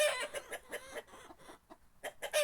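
A goose calls in a poultry yard with a run of loud, harsh, repeated honks in quick bursts, close by, with brief pauses between them.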